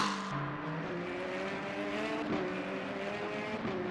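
Two McLaren race cars in a racing video game at Fuji brake hard into turn one, their high engine notes dropping and stepping down through downshifts, with another car droning in the background.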